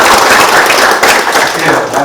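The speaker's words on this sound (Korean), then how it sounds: "여기서 여러분 전부 격려의 박수를 한번 부탁을 드리겠습니다" Applause from an audience at a provincial governor's town-hall meeting in Goryeong, a dense, loud wash of clapping hands that holds steady throughout with no talk over it.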